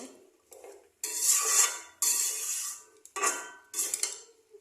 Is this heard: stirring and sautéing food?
yes